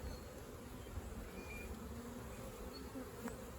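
Steady, low buzzing of many honey bees during a hive split, continuous and close, with a faint whine drifting above it.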